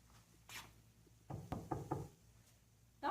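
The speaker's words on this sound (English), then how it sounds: "Knock, knock." Knuckles rap on a door in a care home resident's room, a few sharp knocks in quick succession with pauses between them, close by, in a quiet room.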